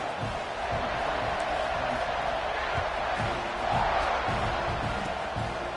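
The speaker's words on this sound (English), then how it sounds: "this crowd is buzzing after that last score" Stadium crowd in a college football video game, a steady dense roar that swells briefly near the middle, heard alone without talk over it.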